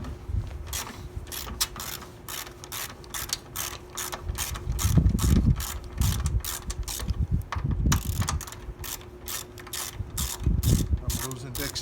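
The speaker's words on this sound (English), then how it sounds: "I'm going to go ahead and remove this bolt" A hand ratchet works a bolt loose on a Jeep Wrangler JK during a hood lift strut install outdoors, with rapid, evenly spaced clicking in repeated bursts, close and clear.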